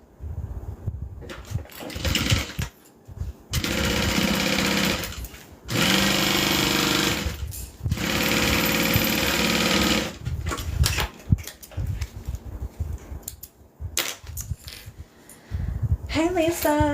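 A sewing machine stitches down a zipper seam in loud, close bursts of rapid mechanical chatter, broken by short pauses between runs.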